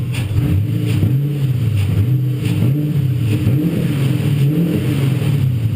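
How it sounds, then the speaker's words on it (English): A nearby overheating car engine that keeps stalling rumbles steadily with a few rising and falling revs, a continuous low drone throughout. "Let's give it some fuel."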